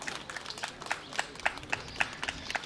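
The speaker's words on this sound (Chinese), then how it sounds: "掌声谢谢你们" Audience applause for an award-winning team at a spring ox ceremony press event in Tucheng, coming as a short, fairly faint spatter of scattered claps with a quick uneven rhythm and no voices.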